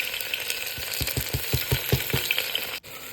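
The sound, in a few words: cumin, onion and green chili frying in hot oil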